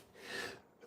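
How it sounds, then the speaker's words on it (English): A single sneeze from a person on a live stream, a breathy burst that builds and peaks midway, followed by a short sharp catch of breath at the end, fairly faint and close. "I'm so sorry for sneezing."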